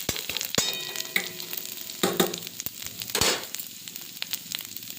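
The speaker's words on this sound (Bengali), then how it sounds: "মশলাটা ভাজা ভাজা হয়ে গেছে" Ginger, mustard seeds and radhuni spices fry in a pan, giving a steady close sizzle broken by sharp crackles, pops and a few stirring scrapes.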